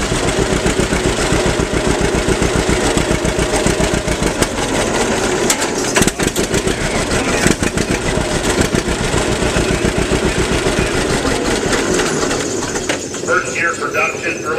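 First-year production John Deere tractor rated 37 drawbar horsepower runs at a farm auction, a steady, fast rhythmic engine chug close by throughout while people talk nearby.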